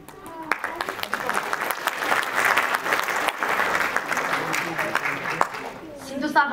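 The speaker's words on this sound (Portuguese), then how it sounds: "Mais força nesse aplauso." Audience applause at an International Mother Language Day awards ceremony, a sustained wash of many hands clapping at steady strength, fading slightly near the end as a voice begins to speak.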